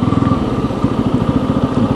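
A Bajaj Pulsar F250 motorcycle engine runs close by with a steady, rapid low-pitched pulsing rumble, loud and even throughout with no talk over it.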